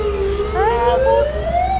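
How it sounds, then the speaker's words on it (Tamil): An ambulance siren in a video game wails steadily, its pitch sliding slowly upward across a short, loud burst with no talking over it. "அங்கே பாருங்க அந்த ஆம்புலன்ஸ்"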